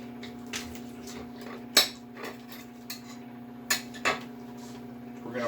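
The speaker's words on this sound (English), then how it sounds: "We're going to cut it right in half." A knife halves a block of Neufchâtel cheese for a gluten-free cheesecake filling, giving several light, sparse clinks of metal against a dish over a steady low kitchen hum.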